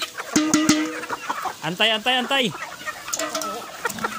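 Backyard chickens at afternoon feeding time, several bursts of clucking and squawking cackles close by, with a brief spoken word in between.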